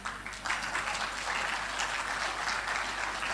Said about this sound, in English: I want you all to clap for yourself.